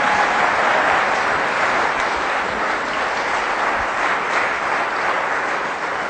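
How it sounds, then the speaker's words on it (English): Steady applause from a conference audience welcoming a speaker to the stage, continuous clapping of even loudness throughout with no voices over it. "Please give a round of applause for Catherine Austin Fitts."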